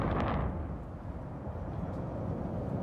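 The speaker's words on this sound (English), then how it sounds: "Two enormous explosions at a Texas chemical plant forced tens of thousands of people to flee today." A huge explosion at a Texas chemical plant, captured in news footage, makes a broad, distant rumble. A sharp blast at the start gives way to a sustained roaring low boom that fills the whole stretch.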